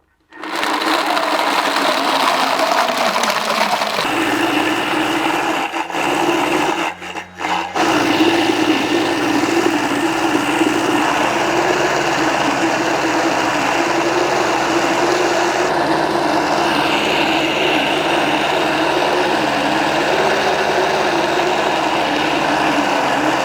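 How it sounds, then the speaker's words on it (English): A Thermomix TM6 blends ice into fruit sorbet, a loud continuous motor whine and grinding roar that briefly dips and cuts out before resuming and running steadily to the end. "And now we're going to blend it."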